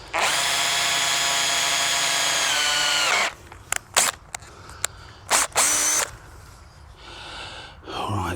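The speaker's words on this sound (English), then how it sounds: "now we can drill." Power drill running at high speed for about three seconds while drilling during antenna tower work, then stopping, followed by short bursts, clicks and handling noises nearby.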